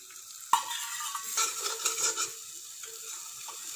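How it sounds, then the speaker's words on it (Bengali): Beaten eggs mixed with masala fry in a pan, giving a soft sizzle with a sharp clack of a utensil near the start and a few scraping stirs after it. "দেখুন মশলার সাথে ডিমটাকে মিশিয়ে নিয়েছি অল্প হালকা ফ্রাই হওয়ার পরে"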